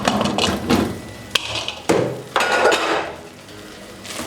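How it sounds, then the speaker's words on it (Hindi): A metal lid comes off a pot of cooked daal, with a few sharp clinks and clanks of metal on metal close by, and no one talking. "अब ढक्कन खोल लेंगे"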